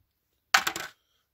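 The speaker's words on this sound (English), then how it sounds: "A dice roll." Dice rolled into a tray during a Warhammer 40K tabletop game give a single short, bright clattering rattle that settles within half a second, heard alone in silence.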